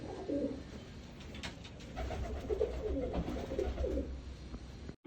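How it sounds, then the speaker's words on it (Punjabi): Pigeons in a loft coo in soft, low, rolling phrases that repeat over a few seconds, close by but fairly quiet, with faint rustling and no talk. "ਸਾਰੇ ਇੱਧਰ ਕਬੂਤਰ ਛੱਡੇ ਹੋਏ"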